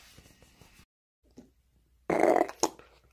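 A single loud, close burp erupts after a stretch of near silence, preceded by faint rustling and small noises.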